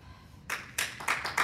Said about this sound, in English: please hold your applause to the end.